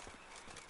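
Horse hooves clip-clop at a steady gait in the Witcher 3: Blood and Wine video game, a short, even run of game-audio footfalls with no talk over them.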